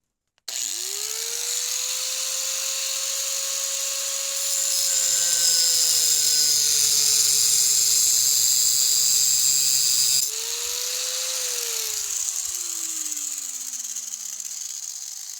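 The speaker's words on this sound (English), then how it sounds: "So we cut it one way and then we flip it and cut it the other way" Power tool with a small, worn cutting wheel slicing through conduit for an electric bike chassis build, a loud high-pitched whine that spins up, holds steadily under load, then winds down as the motor coasts to a stop.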